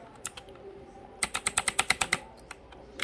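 Computer keyboard keys clatter during a Roblox gaming session: a few scattered taps, then a quick rhythmic burst of about ten sharp, close clicks, followed by a couple more isolated presses over quiet room noise.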